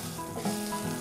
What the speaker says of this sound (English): I'm gonna try to get this to a point or I can just keep it sizzling.